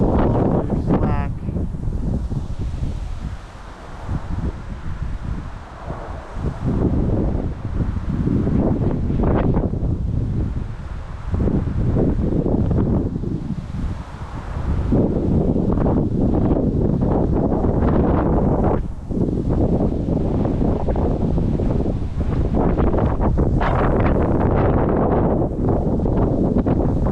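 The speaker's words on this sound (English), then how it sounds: "It is windy. The wind is making this kind of hard." Strong gusting wind buffets the microphone at a trout pond during fishing, a loud continuous roar with low rumbling bursts, while people talk over it now and then.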